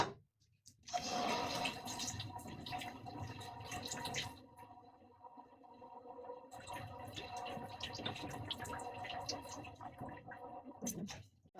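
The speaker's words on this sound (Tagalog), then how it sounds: "Yan, hugasan natin bago natin iprito." Running water splashes and gurgles steadily as fish is rinsed under a tap before frying, with a brief pause midway before the flow resumes.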